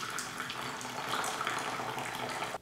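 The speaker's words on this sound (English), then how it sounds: "you can also pour the water with a much more volume, yeah, much more of a thicker stream" Water pours from a kettle in a thick, heavy stream, giving a steady, full splashing rush close by that continues without a break and stops abruptly at the end.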